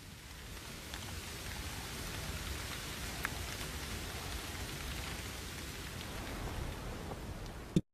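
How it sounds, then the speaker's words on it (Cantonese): Steady rain falling through a forest, a dense even patter on leaves and ground with scattered louder drops, continuous throughout and ending in a brief sharp knock. "雨水所到之處，所有嘢都會被侵蝕。"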